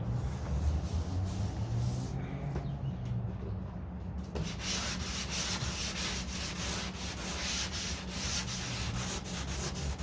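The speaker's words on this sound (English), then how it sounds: "I'm just sanding" Steady scratchy dry sanding on the hood body panel of a 1969 Corvette C3, a continuous rubbing rasp that runs close and loud for the whole stretch, with a brief dip in the harsh hiss partway through.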